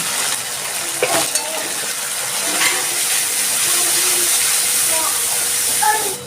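Spice masala with turmeric and salt sautéing alongside prawns in a pan, a continuous loud hiss of frying with a few faint clinks of a utensil, steady throughout.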